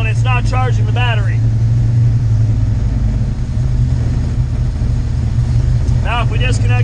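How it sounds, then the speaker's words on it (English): A car engine idles steadily, running on the alternator after the battery is disconnected, a loud constant low hum throughout while someone talks over it at the start and near the end. "the alternator is keeping the car running now"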